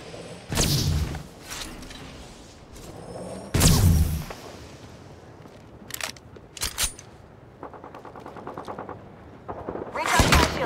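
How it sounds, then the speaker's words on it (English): Gunfire rings out in the Apex Legends battle royale video game, with loud bursts of shots, a few single cracks and a rapid automatic volley, all separated by quieter gaps. "Taking shots here!"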